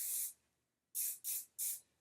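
Four short hissing bursts of hairspray from an aerosol can, one longer spray followed by three quick ones after a pause, close and clear.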